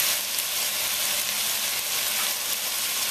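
Steady, dense sizzling of oxtail frying in hot oil, close and continuous with no talking.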